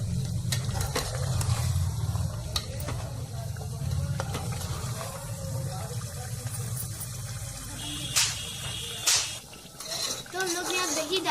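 Yogurt being fried and stirred in a pan over a high gas flame for chicken korma, a steady low sizzle with scraping stir strokes and occasional clinks of the utensil against the pan.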